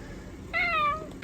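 A single drawn-out cat meow, clear and fairly close, rising then falling over about half a second against a quiet background.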